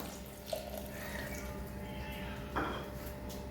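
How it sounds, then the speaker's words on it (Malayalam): Water runs steadily at a low level into a pot of rasakalan curry, a quiet, continuous splashing pour with a couple of faint knocks. "ആവശ്യത്തിന് വെള്ളം ചേർക്കാം"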